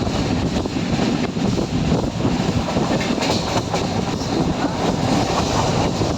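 A steady roar of a moving train with rattling wheels and wind rushing past, continuous and loud throughout, no talking.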